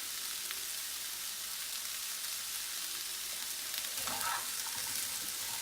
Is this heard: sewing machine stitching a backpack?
no